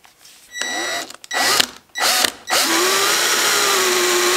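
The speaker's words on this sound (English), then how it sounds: "Now use a drill bit or a Dremel and cut a 1-inch hole in the side." A drill or Dremel cuts a hole in a plastic tote, starting in short whining bursts and then settling into a steady loud high-pitched whir, close and with no talking.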